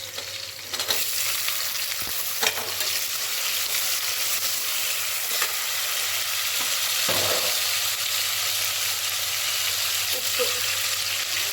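Tomatoes with green chillies sizzle steadily in a pan for biryani, a continuous close frying hiss with occasional stirring clatter, while a voice speaks briefly over it.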